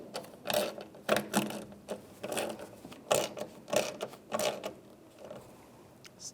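A screw being driven and tightened into a step rail cap on a 2011-2018 Ram 1500 pickup, heard as a series of short irregular clicking, ratcheting bursts, close and clear with no voices.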